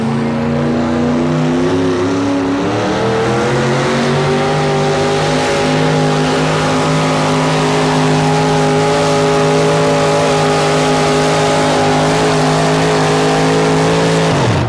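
A Ford pulling truck roars at a truck-pulling event on the Busch Pro National Tour in Raleigh, North Carolina, its engine a loud, sustained, heavy drone whose pitch climbs slowly and holds near and steady for the whole stretch.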